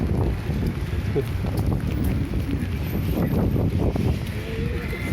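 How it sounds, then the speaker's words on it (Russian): Strong wind roars and buffets a microphone outdoors on a cold early-winter city street in Yakutsk, a steady loud rush without speech. "Ой, ветрюга."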